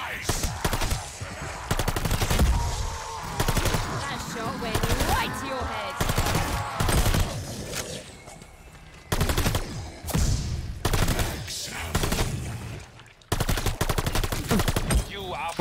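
Rapid automatic gunfire shooting zombies in the video game Call of Duty Vanguard, loud bursts and short volleys repeating across the whole stretch with brief pauses, a faint voice occasionally underneath.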